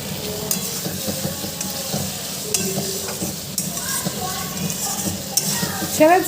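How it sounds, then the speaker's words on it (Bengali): Fish curry with potatoes sizzles in a pan while a spoon stirs it with steady scraping and clinks, heard up close and without talk. "আলু দিয়ে মাছের ঝোল করি।"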